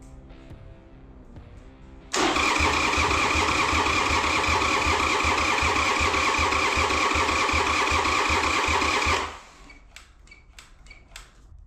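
Old daily driver car that has sat unused for years, its starter cranking loudly in a steady rhythmic churn for about seven seconds before cutting off, with quieter clicks and shuffling before and after.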